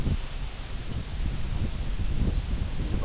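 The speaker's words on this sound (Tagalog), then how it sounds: "Tapos ang hangin niya." Wind blowing through the leaves of a mango tree, a steady broadband rustle and low gusting rumble that persists throughout without speech.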